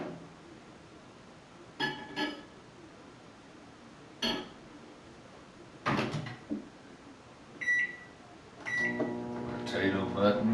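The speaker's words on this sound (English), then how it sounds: "Potato button. It's as easy as that. Microwaves do the job, don't they?" A microwave oven set to cook a potato gives a series of sharp beeps from its keypad and a door clunk, then its low steady hum starts up; a voice speaks between the tones.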